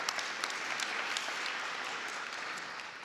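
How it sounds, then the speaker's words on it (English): Audience applause for the Ridge Patrol at a Metro swearing-in ceremony, a soft, even wash of clapping that sounds distant and fairly quiet throughout the short stretch. "That should be a round of applause for the Ridge Patrol."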